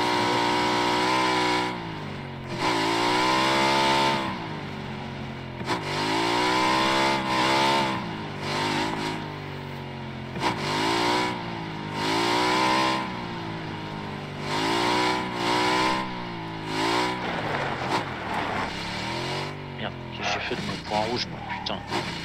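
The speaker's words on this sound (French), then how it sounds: "Y'a une moto là, c'est qui?" Engine of a motorcycle in the battle-royale game PUBG on the Miramar desert map, droning and revving steadily for the whole stretch with wavering pitch, heard beneath players chatting over voice chat.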